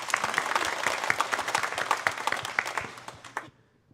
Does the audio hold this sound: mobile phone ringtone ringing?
no